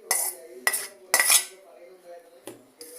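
Grated coconut is tipped into a bowl during egg curry preparation, heard as a few sharp spoon-on-bowl clinks and scrapes spaced across a few seconds, with nobody speaking.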